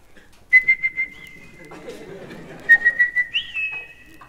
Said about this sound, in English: you do have to have a return whistle when you send him out to hunt